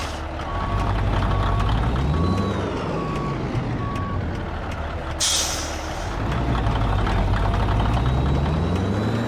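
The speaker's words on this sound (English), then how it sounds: "Got that same like ticking noise with the engine. I think it's the cat engine that's doing it." A 2018 Freightliner Cascadia semi truck with a Cat engine in American Truck Simulator runs steadily, its engine drone overlaid by repeated reversing beeps and a sharp air-brake hiss midway.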